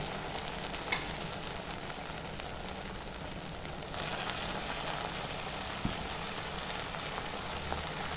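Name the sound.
red amaranth greens frying in a wok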